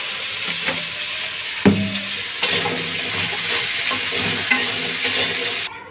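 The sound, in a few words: potatoes frying in oil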